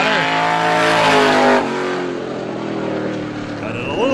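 Race car on a short speedway during 350 Super time trials, engine howling as it passes close, pitch dropping as it goes by, then droning farther away before rising again, with an announcer talking over it.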